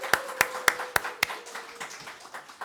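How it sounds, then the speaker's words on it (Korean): A church congregation claps in a sparse, slow rhythm of about five sharp, near hand-claps that fade into soft trailing claps, with no voices over them. "다시 한번 우리 열화와 같은 박수 부탁드립니다."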